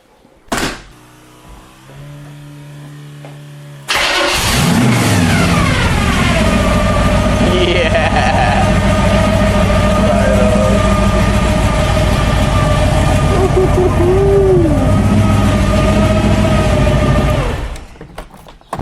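A 1931 Ford 5-window coupe hot rod with a carburetor engine; after quiet shuffling the engine bursts into life and runs loudly for over ten seconds, revving with rising and falling pitch, before cutting off.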